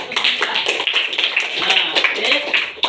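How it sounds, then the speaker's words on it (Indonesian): A classroom of students clapping hands together, a quick run of close, uneven claps mixed with overlapping voices. "Ayo tepuk tangan."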